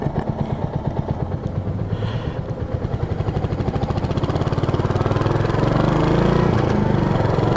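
A Royal Enfield Hunter 350 motorcycle engine idles with a slow, lumbering tick-over, its steady low thumping pulses close and loud, the beat firming and rising slightly toward the end.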